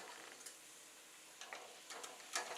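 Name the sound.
cashews frying in oil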